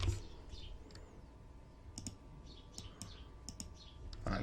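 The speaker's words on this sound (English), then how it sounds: "here I type dispatched" Keys clatter on a computer keyboard in quick, close clicks, a short burst of typing with a few faint chirps of birdsong in the background.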